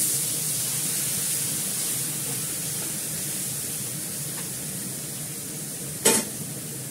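Water poured into a hot frying pan of potatoes with spices, giving a steady broad hiss and bubbling sizzle throughout, with a sharp brief burst near the end; no talking.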